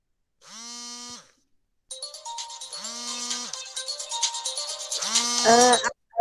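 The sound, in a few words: phone ringing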